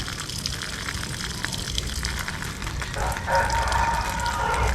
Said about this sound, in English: And carefully draining all the water down,